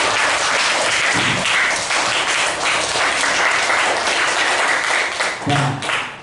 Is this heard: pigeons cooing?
no